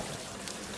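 Rain falls steadily in a cartoon jungle scene, a dense, even hiss of downpour filling the short moment with no voices.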